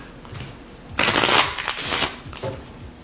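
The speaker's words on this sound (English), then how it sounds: "I'm going to take this deck of cards. Okay, I'll give it my quick shuffle." A deck of playing cards gets a quick shuffle during a card magic routine, producing a brief riffling burst of rapid flutter that settles into a few soft taps and slides, close to the microphone.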